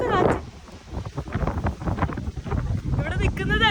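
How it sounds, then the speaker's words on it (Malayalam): Strong wind buffets the microphone in steady gusts on a beach at Maruata, Mexico, with a person talking loudly over the roar. "നല്ല രീതിയിൽ കാറ്റടിക്കുന്നുണ്ട് കേട്ടോ"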